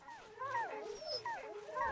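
Several dogs in the video game Wasteland 2 whine and yip together in overlapping, wavering cries, fairly close and steady for a couple of seconds.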